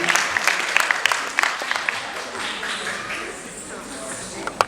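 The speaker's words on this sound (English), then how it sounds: "a big round of applause for her" A crowd at an Indian dance performance claps steadily with scattered louder claps, the applause thinning toward the end.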